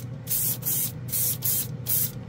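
A Tamiya metallic spray paint can hisses in five short, evenly spaced bursts of roughly a third of a second each, loud and close, with a low room hum between bursts and no speech.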